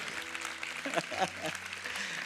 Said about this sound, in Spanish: Denme aplauso a estos